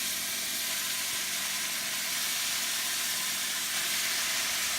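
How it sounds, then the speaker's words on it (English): Pork frying in a pan for chicken pork adobo, giving a steady, dense sizzling hiss that holds evenly throughout at moderate level, with no talk. "So we're gonna fry it just a little bit to make it brown."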